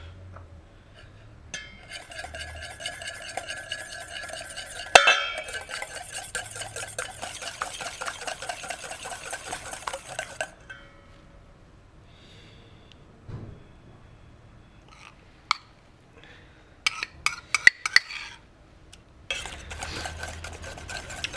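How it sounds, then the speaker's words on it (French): A whisk beats egg yolk, mustard and a pinch of fleur de sel into mayonnaise in a bowl, with close, rapid, steady clinking and scraping for several seconds. After a pause, scattered clinks and taps of utensils follow, with no talking. "ensuite on monte notre mayonnaise"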